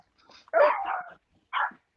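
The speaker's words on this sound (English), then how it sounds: "my dogs are barking like crazy." Dogs barking indoors, close by: a short yip, then a longer loud bark and a final sharp bark within two seconds, with no talking over them.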